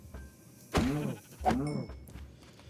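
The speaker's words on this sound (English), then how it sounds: "this biome does seem to be spawning cows. They make a satisfying noise." Two drawn-out cow moos from Minecraft, each a loud harmonic call with a falling pitch, spaced about a second apart over a quiet game background.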